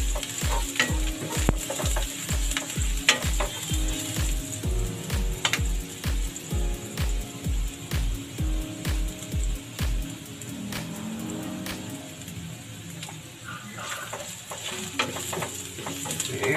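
Whole garlic cloves frying in a pan with steady stirring, repeated scraping strokes over a continuous sizzle, close and fairly loud, the rhythmic stirring easing off after about ten seconds while the sizzle goes on.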